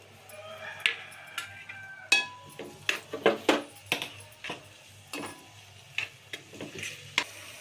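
Onion and green chillies going into hot oil for a country-chicken pulao, with sharp clinks and scrapes of a utensil against the pan in an irregular series over a faint sizzle.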